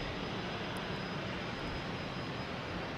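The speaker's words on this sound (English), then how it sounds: "we have a Delta coming in from Cancun, a 737-800 coming in on 4 left" A Delta Boeing 737-800 jet arriving from Cancun and landing on runway 4 Left at Boston Logan, heard as a loud, steady, broadband engine roar that holds evenly throughout with no voices.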